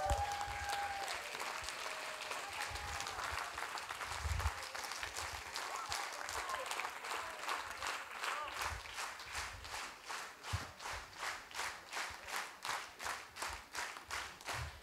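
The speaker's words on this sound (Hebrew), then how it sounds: "אפשר לעמוד ולמחוא להם כפיים, מגיע להם" A theatre audience applauds the actors in sustained, dense clapping that becomes rhythmic, unified beats toward the end, with faint voices and shuffling underneath.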